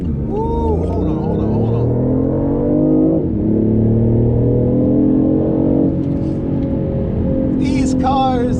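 BMW i8 sports car accelerating, a loud continuous engine drone with rising and shifting tones, close and steady, with a speaking voice heard over it.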